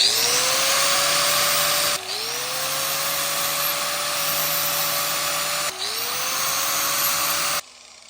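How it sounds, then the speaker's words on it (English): Power tool grinding a bevel into the edges of a cut winch chain link, a loud steady whine running in three continuous passes with brief dips between them before stopping. "We're gonna bevel the edges."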